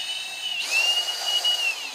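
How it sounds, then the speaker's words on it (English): A drill works slowly through a copper rivet, giving a thin steady whine that shifts pitch partway through as the bit bites, close and moderately loud with no talking. "So we're just going to drill slowly."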